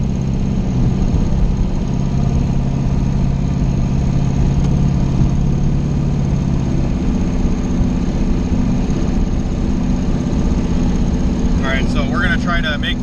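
A Chevstang engine tuned with a MicroSquirt idles lean and unevenly, its steady mid-pitched drone loud and close for the whole stretch, with a little faint chatter near the end.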